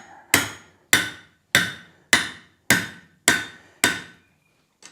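A hammer striking a chisel on hot steel over the pritchel hole of an anvil while forging a logdog, seven loud, ringing metallic blows at a steady rhythm, each decaying quickly, followed by a faint final tap.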